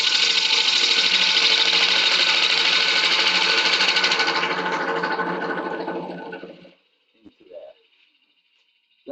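A wood lathe spins a horse chestnut hollow form under a cut, giving a loud, steady buzzing whir that fades and winds down after about six seconds, leaving near silence with a faint clunk.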